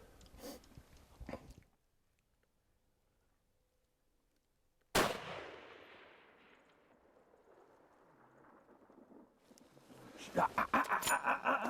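A rifle shot cracks out once, loud and sudden, during an elk hunt in New Mexico, trailing into rustling outdoor noise. People talk quietly before the shot and again afterward.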